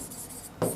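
Pen or marker strokes while writing out a pair of linear equations, a brief quiet scratching that ends in one louder rub near the end, with no voices.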